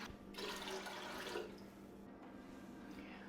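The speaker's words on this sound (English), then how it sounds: "You're going to add now 2 cups of water" Water pours into a pickling brine of white vinegar in the kitchen, a soft, close splashing rush for about a second that fades into a quiet trickle.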